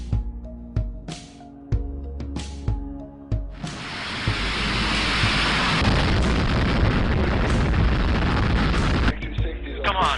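Rapid gunfire cracks out in a burst of separate shots, then a heavy sustained roar of explosions and firing fills several seconds before cutting off to a quieter rumble, with no talk.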